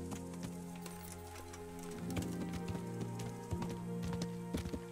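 Horse hooves clip-clopping in the medieval video game Kingdom Come, a steady run of soft hoof strikes over low game ambience and music-like drones, getting a little louder partway through.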